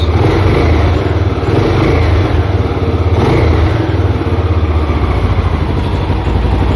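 A Yamaha Tri-Moto three-wheeler's small engine idles steadily up close, a continuous throbbing rumble with slight fluctuations and no speech.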